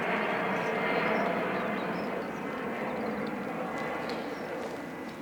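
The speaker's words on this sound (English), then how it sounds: "Just wait for the plane to move out." An airplane flying overhead above a frosty garden, a broad steady roar that slowly fades as it passes, heard alone with no talk.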